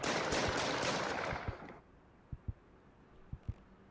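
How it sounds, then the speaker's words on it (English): Video game gunfire: a dense burst of rapid shots at first, then after a drop in level several sharp single and paired distant shots spaced apart. "Another shooting? The city's getting out of hand."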